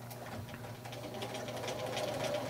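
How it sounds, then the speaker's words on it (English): A sewing machine runs steadily along a fabric hem, back stitching at the start, with an even, continuous mechanical whir and rapid needle ticking throughout, close and alone. "I'm going to sew all the way down"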